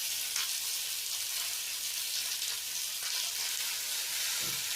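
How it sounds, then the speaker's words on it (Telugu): Strained jowar stirred into hot masala and oil in a pan, a steady close hiss and sizzle of frying with faint scraping of stirring, no voices. "ఇప్పుడు వడబోసుకున్న జొన్నలు ఉంటాయి కదా, అవి యాడ్ చేసుకొని కలుపుకోవాలి"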